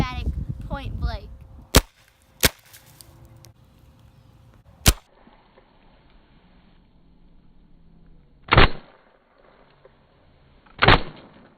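Semi-automatic paintball gun fired point blank at Easter eggs: sharp single shots ring out alone, three quick cracks early, then two heavier, longer bursts of impact several seconds apart, with brief rustling before the first.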